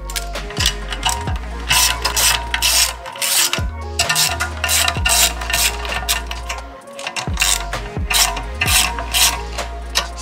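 A ratchet wrench loosens bolts on a BMW M50 cylinder head, giving loud, close, rapid pawl clicking in repeated bursts with brief metallic pauses between strokes.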